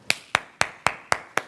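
Six crisp hand claps land in an even, quick counted rhythm, each one close and isolated with a brief decay and silence between them.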